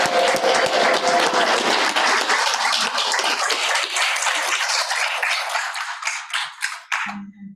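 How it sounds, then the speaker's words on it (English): Dense audience applause at a school board business meeting fills the room, continuing steadily before thinning into a few last claps and fading into a quiet pause. "Let's give them a big round of applause."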